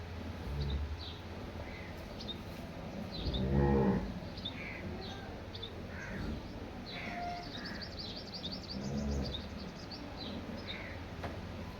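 A Jersey cow on a farm lets out several deep, drawn-out moos at a moderate distance, with faint bird calls and quiet ambient noise between them.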